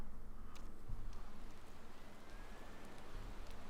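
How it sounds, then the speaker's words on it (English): Steady rainfall in the video game Motorsport Manager hisses and patters continuously, fairly quiet, with a few slightly louder drops standing out. "it's raining"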